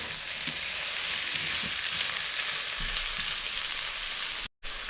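Chicken and onion fry in a pan in the chicken's own fat, a close, steady hiss and crackle of sizzling with a few soft stirring knocks, then a brief cut near the end.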